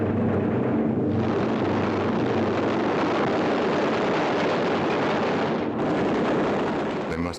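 A bomb exploding after a direct hit during a World War II air attack, heard as a sustained loud roar of blast and rumble filling the whole stretch, with a brief dip near one second and another near six.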